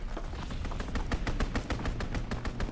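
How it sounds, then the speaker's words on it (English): Rapid automatic gunfire from a strafing run in a WWII video game rattles off in a steady burst of sharp, evenly spaced cracks, sustained and moderately loud. "Strafing run inbound."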